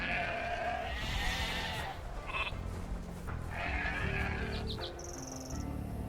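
Several sheep bleats in Age of Empires 2 Definitive Edition ring out over steady background music, short and fairly close, with small chimes and effects between them.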